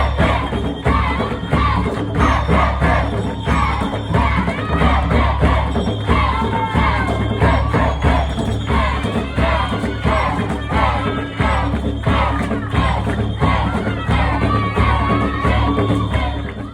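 Crowd cheering and shouting during a Botswana cultural dance group performance, loud dense continuous whoops, yells and rhythmic chanting from many people close by, lasting throughout.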